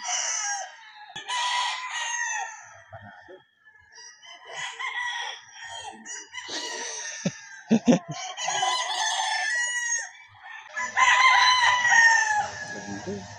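White Kelso gamefowl roosters crow repeatedly in long, strained calls mixed with clucking, loud and close, with a few sharp knocks partway through.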